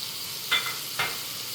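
Shrimp being stirred in a pot with spices, two brief scraping stirs over a soft steady sizzle, close and alone without talk.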